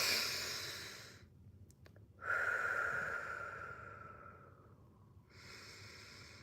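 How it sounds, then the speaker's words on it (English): A slow, deep breath drawn in and let out during a guided morning breathing session, soft and close with a long airy inhale and a gentle exhale, no talking. "let's take this breath together"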